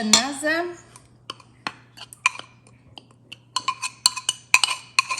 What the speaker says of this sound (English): And now we are going to mix